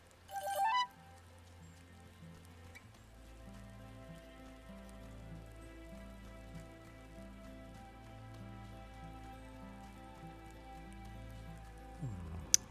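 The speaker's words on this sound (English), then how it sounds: "Who else talks about the rain?" Steady rain falls in the Wylde Flowers video game, a soft continuous patter that runs beneath a looping musical score with repeating tones.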